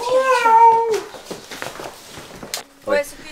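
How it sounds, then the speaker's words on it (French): Large cat meowing indoors, a couple of drawn-out wavering meows, with footsteps, shuffling and people talking around it. "On entend comme un gros chat. Il est en train de miauler"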